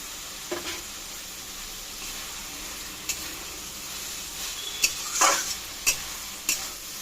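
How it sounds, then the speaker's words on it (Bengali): Previously fried shrimp being stirred into a frying pan, with a steady background sizzle and a few sharp scrapes and clinks of the utensil against the pan, close and fairly quiet. "আর দেবো এখানে যে ভেজে রেখেছি চিংড়ি মাছটা, সে মাছগুলোই দিয়ে দেবো।"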